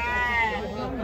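Sheep bleat at a goat and sheep livestock fair in Surubim, Brazil, a wavering, drawn-out cry heard close by amid the chatter of the fair, with someone talking over it.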